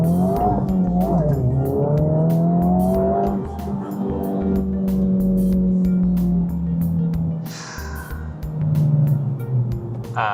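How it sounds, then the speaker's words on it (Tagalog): Honda Civic Type R FL5 engine in +R mode revving hard, loud and close, holding high revs with rising and falling pitch across several pulls. "Yung rev niya, hino-hold niya ng mas mataas para mas mabilis ka ring bumirit."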